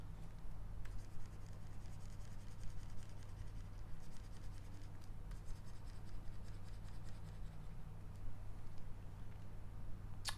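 Pen scratching across paper while a diagram is drawn: steady close rubbing strokes with a few sharper ticks, soft and continuous over a low hum, with no talk.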